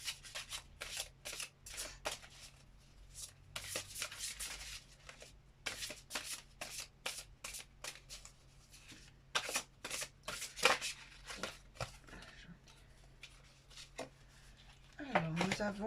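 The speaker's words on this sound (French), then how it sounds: "Je vais prendre une carte de géométrie sacrée." Sacred geometry oracle cards are shuffled in steady bursts of crisp, rapid riffling, close by and fairly quiet, with brief pauses between passes and a faint low hum underneath.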